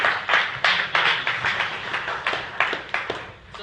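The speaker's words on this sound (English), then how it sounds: "round of applause for Dave" An office audience claps for Dave, a scattering of hands giving sharp uneven claps that thin out and fade over a few seconds, with no talking over them.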